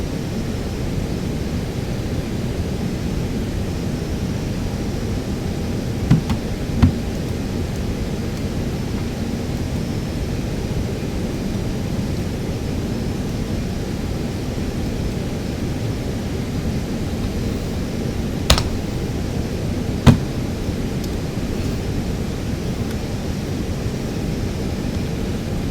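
Steady, broadband airplane engine drone in a flight simulator game, constant and even throughout while circling a mountain before landing, with a few faint clicks.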